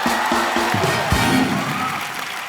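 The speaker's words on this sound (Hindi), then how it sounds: "ठोको ताली" Studio audience on a comedy show bursts into cheering and applause, a loud dense crowd wash with whoops over a music sting at the start.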